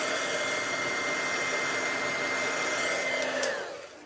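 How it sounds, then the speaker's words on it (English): A heat gun drying a stamped craft project blows with a loud, steady whirring roar close to the mic for several seconds, then cuts off and winds down at the end. "So I'll hit it with my heat gun just to speed the process up because dry, dry, dry."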